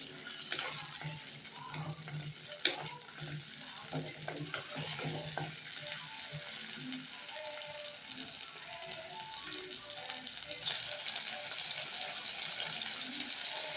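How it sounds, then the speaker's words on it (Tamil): Small shallots sautéing in hot oil in a pan, a quiet steady sizzle with occasional stirring scrapes and clinks, close but faint, with no talk. "எண்ணெய் சூடானதும் சின்ன வெங்காயத்தை போட்டுக்கலாங்க சின்ன வெங்காயம் நல்லா வதங்கணும்"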